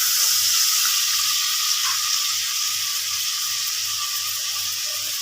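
A tomato hits a hot pan and sets off a loud, steady sizzle of frying, a bright hiss that holds evenly throughout with a faint low bubbling beneath.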